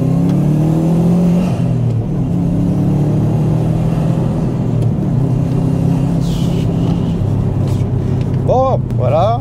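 A car accelerates hard on a country road in Norfolk, its engine loud and close with a rising, sustained roar, and someone talks over it throughout.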